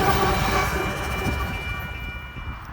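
Freight train led by an AC44CW locomotive rolling past on the rails, a steady rumbling roar with rail noise that fades gradually, with no voices.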